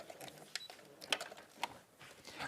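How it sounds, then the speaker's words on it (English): A sewing machine fitted with a walking foot stitches out a wiggle-stitch quilting line, giving a faint, quick mechanical whirring and clatter with small rhythmic ticks and no voices over it. "put my foot on the pedal and stitch that out"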